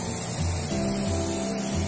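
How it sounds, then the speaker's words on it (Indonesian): A hand sprayer hisses steadily as it mists the leaves of a potted honey guava tree, a continuous close spray with slight pulsing and no voices. "Rata kita semprotkan daun-daun, jangan sampai ada yang tertinggal."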